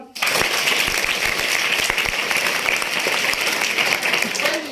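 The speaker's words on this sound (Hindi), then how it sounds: "एक बार जोर से ताली बजाओ।" Schoolchildren at a Children's Day puppet show in Tehri Garhwal clapping loudly, a dense burst of applause that starts sharply and stays strong for several seconds, close and without talk.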